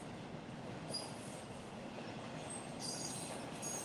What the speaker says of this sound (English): I'm just going to let it play through this train